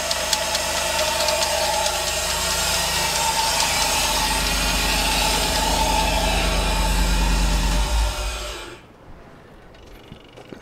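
An LS-swapped 1988 work truck engine runs steadily and loud at close range for about eight seconds, a low idle rumble with a whining belt-driven accessory, then cuts off abruptly into near quiet.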